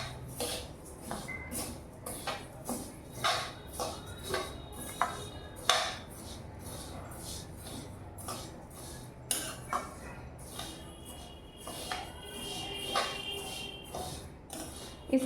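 Ingredients roasting in a pan at home, with a utensil repeatedly clinking and scraping against the metal in an irregular rhythm, close and steady, with no talk.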